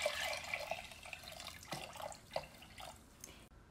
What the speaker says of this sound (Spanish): Solo vamos a agregar agua.